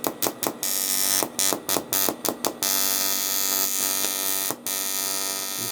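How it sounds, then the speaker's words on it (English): A welding arc crackles and buzzes on an aluminium VW sump, starting in a rapid string of short bursts as the arc is struck, then settling into a long steady buzz broken by one brief gap. "Just clear the arc around first a little bit to get some heat into it."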